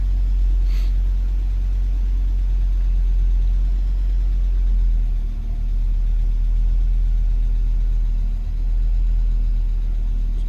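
An Audi quattro coupe with the 7A 20-valve engine idles after a cold start, a steady low rumbling hum with a slight rise and dip, close and continuous with no talk.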